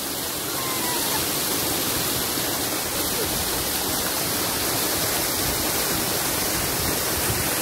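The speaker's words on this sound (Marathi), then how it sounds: "मागं बघा दिसत असेल कसं वाटतंय ते धबधबा" A waterfall pours inside a hollowed rock cave, a constant dense roar of rushing water that fills the space evenly from start to finish.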